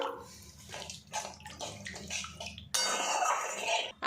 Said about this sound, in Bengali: এবারে গ্রেভির জন্য এর মধ্যে এক বাটি পরিমাণে জল দিয়ে দেবো